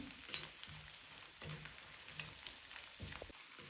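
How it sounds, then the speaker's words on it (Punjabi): Finely chopped ginger and garlic fry in a pan for gobhi matar masala, giving a soft, faint sizzle with a few light stirring scrapes. "ਅਦਰਕ ਲਸਣ ਨੂੰ ਆਪਾਂ 2 ਮਿੰਟ ਲਈ ਭੁੰਨ ਲਿਆ"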